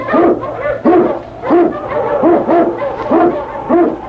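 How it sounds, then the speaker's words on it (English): Eskimo lead dog barking in a radio drama, a series of loud, close barks and yelps in regular bursts, about six over a few seconds, with a low steady hum underneath. "King, the swiftest, strongest of Eskimo lead dogs, blazes the trail through storm and snow"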